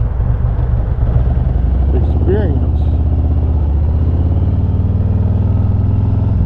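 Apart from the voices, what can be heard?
Harley motorcycle exhaust note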